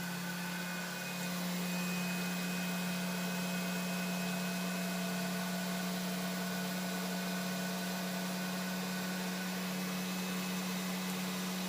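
A 1973 Hoover 3021 spin dryer spinning a wet load gives a steady, loud mechanical whine with a constant low hum, droning on without pause at full speed.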